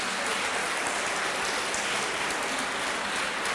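Applause from an audience at a talk on Senegalese agriculture, a dense, steady roar of many hands clapping at once, loud and unbroken throughout with no voices over it.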